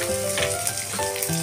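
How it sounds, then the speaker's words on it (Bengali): Coconut pieces fry in hot oil with cumin, bay leaf and dried red chilli, a steady close sizzle running alone throughout with faint stirring. "লাল হয়ে এলে নারকেলের কুচিগুলি দিয়ে লাল লাল করে ভাজতে হবে।"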